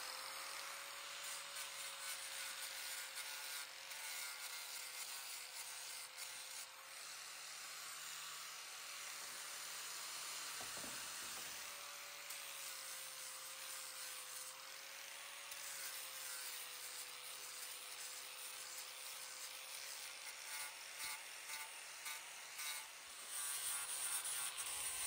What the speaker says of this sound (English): I'm going to go ahead and get my grinder set up, and then we're going to start sanding this flagpole